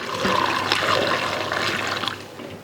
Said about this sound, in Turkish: Bir tane süzeyimizi başka bir tencereye aldık. Ve buradan süzüyoruz.